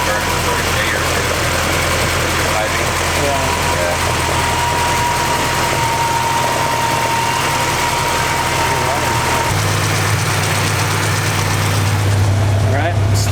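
A Honda Del Sol with a B20 VTEC engine and a newly made exhaust idles just after its first start-up, a steady, close, continuous drone that holds for the whole stretch while someone talks nearby.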